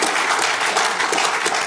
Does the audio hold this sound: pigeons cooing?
no